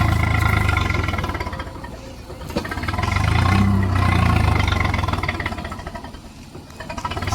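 A tractor engine running nearby, a loud steady low chugging rumble that swells and eases as it rolls along.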